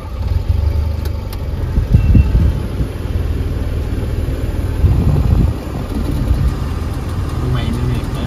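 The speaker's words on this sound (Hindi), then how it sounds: "बैरिंग का आवाज है, बैरिंग नहीं कोई बेल्ट का लग रहा है।" A Tata Nano engine idles with a belt whirring, a steady mid-low mechanical drone that holds level throughout, close by, with faint background voices.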